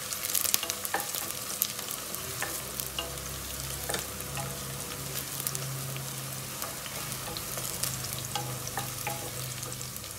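Paya curry with cumin fries in a pan, a continuous crackling sizzle with scattered scraping stirs and pops, close and steady, without any talking.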